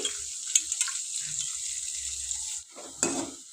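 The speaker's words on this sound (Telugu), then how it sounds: "ఇప్పుడు ఇది కొంచెం తాలింపు అవుతుంటుందండి" Tempering spices sizzle steadily in hot oil for a moringa leaf dal, a close, even hiss with a few faint clinks of a utensil against the pan.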